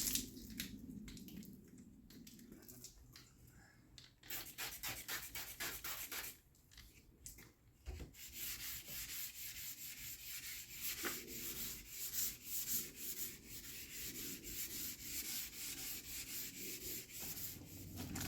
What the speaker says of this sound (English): ready to sand this thing with some 400 wet sand